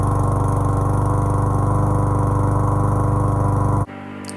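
Close and loud, a Tesco 98.5cc petrol lawnmower engine runs with a steady, rapid pulsing drone, then abruptly cuts out near the end, leaving a quieter background.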